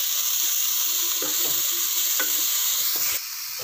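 Cabbage stirred into mixed fried rice in a hot pan gives a steady close sizzle, with a few scraping strokes of the spoon breaking through.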